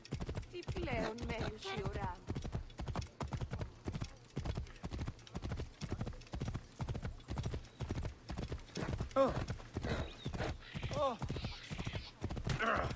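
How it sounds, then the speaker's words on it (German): Horse hooves gallop in a steady, rapid clip-clop across rough ground in Assassin's Creed Origins, loud and continuous throughout, with a brief whinny and game dialogue voices mixed in. "Das Pferd, ne, kommt überall durch,"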